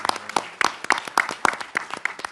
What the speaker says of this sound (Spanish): Bueno, nos aplaudimos.